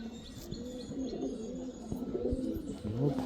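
Pigeons coo repeatedly in low, throaty rolls, with occasional faint chirps in the background, fairly close and steady.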